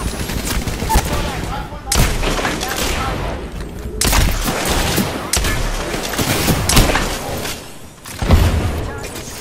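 Video game gunfire crackles in dense bursts of rapid shots and booms, loud and close, with in-game voice callouts now and then.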